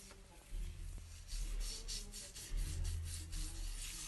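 A homemade natural coffee scrub is rubbed over the face and lips in circular motions, giving a soft, rhythmic gritty scratching that comes in repeated strokes, close and fairly quiet, with no talking.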